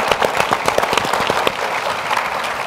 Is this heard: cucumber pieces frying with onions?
no